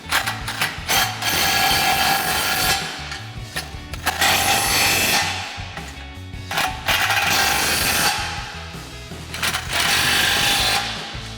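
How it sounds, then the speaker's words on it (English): A ratchet driving a 14mm socket tightens the bolts of a full-width winch-mount front bumper on a 2014–2021 Toyota Tundra, giving close, loud, rapid clicking in repeated runs with short pauses between. "We'll grab our 14mm socket,"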